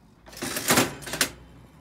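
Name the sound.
old one-armed bandit slot machine being played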